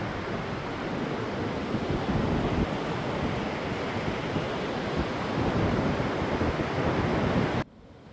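Surf surging and washing through Tunnel Beach Cave on the coast, a loud continuous roar of waves with wind buffeting the microphone, steady throughout before cutting off abruptly near the end.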